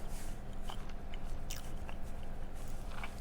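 Crunchy-topped vegan orange pound cake being bitten and chewed close up, with several soft crisp crunches over a steady background hum and no talking.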